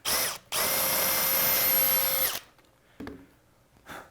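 A power drill boring through a panel during electronics wiring work, a loud, sustained high whine lasting about two seconds after a brief start, followed by quieter handling clunks.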